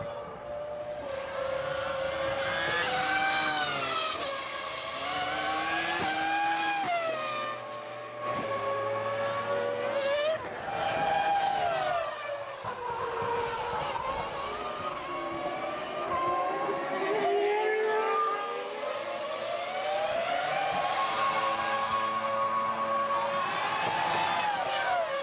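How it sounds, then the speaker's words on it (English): Formula One race cars, including Michael Schumacher's, scream past during the 2000 San Marino Grand Prix. Several loud, high-revving engines rise and fall in pitch as they pass nearby and shift gears, one after another. "Michael Schumacher comes plummeting round the corner"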